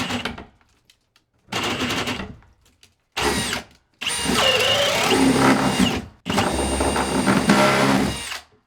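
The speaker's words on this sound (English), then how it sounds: "Drill down at a little bit of an angle." A power drill bores at an angle during shower mixing valve plumbing in a bathroom remodel, in several loud, close bursts of whirring and grinding separated by short pauses, the last runs longest.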